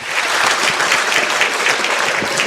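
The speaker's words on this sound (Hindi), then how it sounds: "तालियां हो जाए पार्टिसिपेंट सी के लिए।" Audience applause for a contestant at a religious quiz competition, steady clapping from a crowd throughout, fairly loud with no talk over it.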